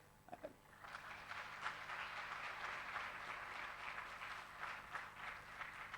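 An indoor audience at a launch ceremony applauds the founders of OpenMRS, a dense and steady wash of many hands clapping that follows a few isolated claps at the start and lasts to the end.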